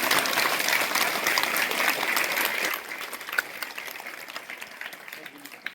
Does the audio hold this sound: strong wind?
no